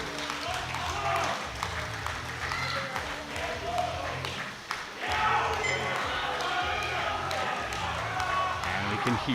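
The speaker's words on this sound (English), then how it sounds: "Let's give them a big round of applause and your support for this one." Crowd applause and cheering during a men's 120 kg powerlifting attempt at a European equipped championship, sustained clapping in a large hall, with an announcer talking over it and a rhythmic thumping beneath.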